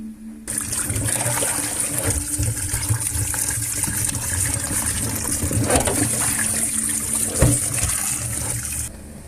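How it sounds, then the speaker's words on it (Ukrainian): Running water pours and splashes steadily in a sink, with brief clunks and knocks partway through, as vegetables are rinsed and the water drained. "Зараз це все зливаю, заливаю чистої води"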